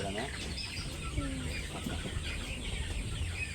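Chickens cluck and call at feeding time in a village yard just after rain, several birds close by over a steady background hum, with a faint voice at moments.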